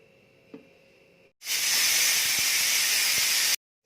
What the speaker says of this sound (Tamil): கடலை வேகிற மாதிரி 4-5 விசில் போட்டுக்கலாம்.